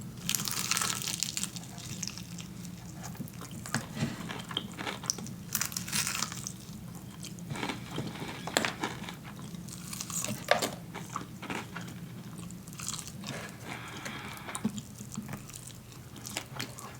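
KFC fried chicken being bitten and chewed up close, with a steady run of crunchy, crackling bites and wet mastication over about seventeen seconds, no talking.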